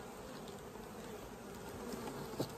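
Honey bees buzz steadily around an open hive during a formic acid varroa mite treatment, a continuous close drone with small individual flight whines rising above it.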